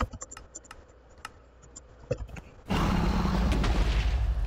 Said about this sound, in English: it's a very non-laggy bad explosion